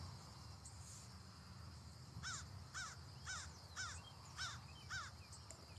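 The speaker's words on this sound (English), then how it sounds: "there's a crow way out there on the pole." A crow calling from a distant pole in a park, about six harsh caws spaced roughly half a second apart, faint and far off over a steady bed of insect chirping.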